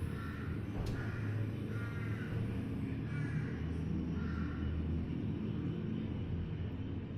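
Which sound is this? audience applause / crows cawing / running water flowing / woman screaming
crows cawing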